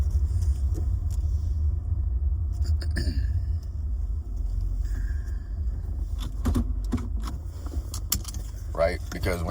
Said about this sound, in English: Let me park the car, hold on.